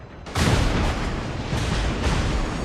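A cruiser's gun volley in World of Warships erupts as a deep boom, then rumbles on into a sustained, loud roar of blasts and crackle.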